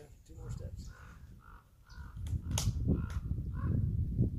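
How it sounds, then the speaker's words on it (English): Crows caw repeatedly in a steady series of harsh calls over rough outdoor background noise on a mountain trail, moderately loud and not far off. "Crows."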